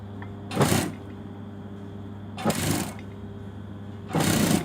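A sewing machine stitching an elastic waistband into a garment edge runs in three short bursts of whirring, each about half a second to a second long, with a steady low hum between them.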